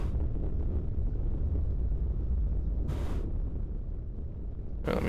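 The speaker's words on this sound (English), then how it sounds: "That's the sound of heat, as you can see. Like lava down there." A constant low, dense rumble of lava heat rising from below in the realMyst video game, a steady roar with no voices, broken by two short hissing bursts.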